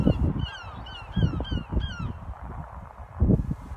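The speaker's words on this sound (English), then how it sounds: "lots of birds." Many birds, likely crows and geese, call repeatedly in a rural Irish outdoor setting, with a rapid series of harsh honks and caws overlapping across the whole stretch over steady background rumble, close and fairly loud.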